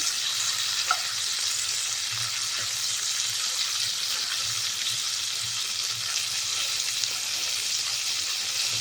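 Okra pieces fry in hot oil in a pan, giving a continuous, even sizzle and crackle at close range throughout, with no talking.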